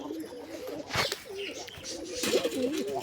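Several pigeons near a pigeon chick give low, warbling coos that overlap and repeat, close and clear, with a brief rustle partway through.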